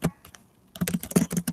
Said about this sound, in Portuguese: então vamos digitar aqui, né?